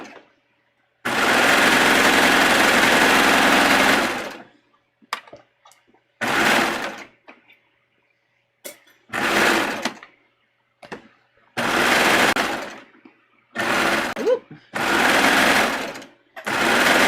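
A sewing machine stitches swimsuit fabric in several bursts of rapid, even whirring, a long run first and then shorter runs separated by quiet pauses, loud and close.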